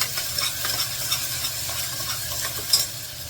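Ginger garlic paste sautés with onion and tomato in a pan, a constant sizzle with brisk stirring scrapes near the microphone and no voices.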